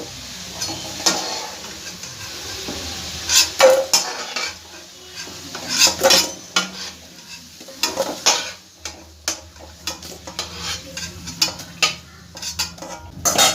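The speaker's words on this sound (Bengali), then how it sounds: "আলুটা এবার আমার খুব ভালো করে ভাজা হয়ে গেছে। আলুটা আমি তুলে নেব।" Fried potatoes are lifted out of hot oil in a pan during a jackfruit kofta recipe. A metal spoon scrapes and clinks against the pan in irregular bursts over a soft background sizzle, close by, with no talking.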